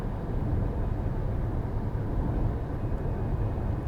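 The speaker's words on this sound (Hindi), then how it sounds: "सुना आपने कितनी कम रोड नॉइज है," Steady low rumble and broadband hum of a Tata electric car interior cruising at highway speed, fairly quiet and even throughout, with low road, tyre and air noise and no talking.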